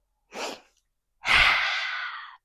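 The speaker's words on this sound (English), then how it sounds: "Inhale, exhale, inhale. Maybe the tongue sticks out on the exhale." A short inhale is followed by a long, forceful, breathy exhale through an open mouth with the tongue out, as in a yoga lion's-breath practice, close and loud against silence.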